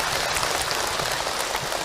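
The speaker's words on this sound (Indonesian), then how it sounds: "Boleh Ibu tepuk tangan untuk Ahilman." An audience at an Islamic talk by Ustaz Hilman claps steadily for nearly two seconds, a dense wash of hands without clear individual claps.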